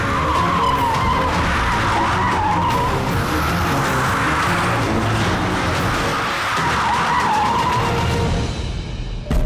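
A car skids with a rear tire problem, its tires squealing loudly and continuously for several seconds as the engine roars, close and intense before cutting off abruptly.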